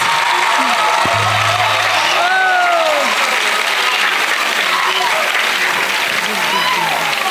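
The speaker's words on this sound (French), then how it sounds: "Applaudissez d'abord pour Jésus. First clap for Jesus." A church congregation at a prayer gathering claps loudly and continuously for Jesus, a dense, steady applause with scattered cheers and whoops, while a voice speaks over it.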